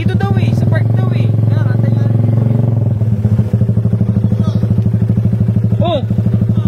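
A Honda Raider 150 motorcycle with an open exhaust pipe idles close by in a loud, rapid, steady putter, and people talk over it.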